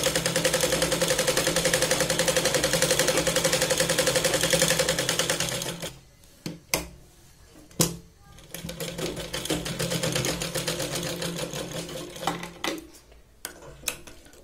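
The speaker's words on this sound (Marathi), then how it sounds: "त्यामुळे आपल्याला तिरकसची शिलाई लावायची आहे" A sewing machine stitches the slanted seam of a big-size Katori blouse, running in a steady rapid whir for several seconds, then stopping with a few clicks and knocks before running again more unevenly.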